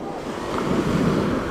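Mediterranean Sea waves on the beach at Netanya, Israel, a brief swelling wash of surf rising and holding, with wind buffeting the microphone, close and fairly loud.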